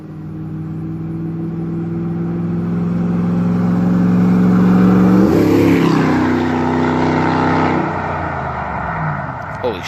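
A first-generation Toyota Tundra with its Y-pipe removed runs at wide open throttle, the exhaust note rising loud and close as the truck passes, with a deep droning roar that swells midway and then fades slightly.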